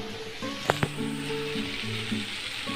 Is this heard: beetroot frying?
yes